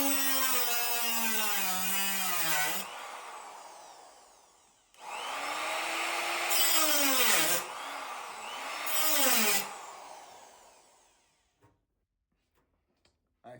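An electric rotary tool with a small cutting disc slices a slit into car rocker panel sheet metal, a loud steady high whine that sags in pitch under load in two long passes, then spins down to silence.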